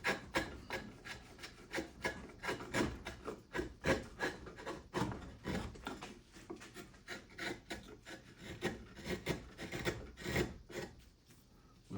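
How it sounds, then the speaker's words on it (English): A chisel carves a cottonwood bark lighthouse in quick, repeated scraping strokes that come in a steady, close rhythm of soft rasping cuts, with no talking. "you can get your chisel in like that and take off light pieces"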